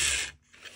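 A Roundhouse Boxcab track-cleaner model locomotive with pads rubbing the track gives a close, harsh mechanical whir and grinding buzz that briefly drops away and then returns more faintly.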